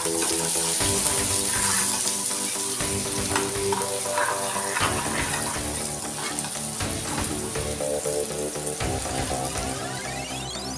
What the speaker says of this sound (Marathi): कांदा टाकून घ्या व्यवस्थित. तो चांगला परतून घ्यायचा आहे